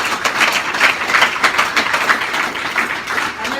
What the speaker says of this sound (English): Another round of applause for Anthony Riley.